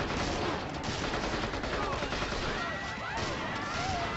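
Gunfire in the PS2 game State of Emergency, a dense continuous clatter of shots and crowd chaos filling the whole stretch at steady loudness, with voices mixed in.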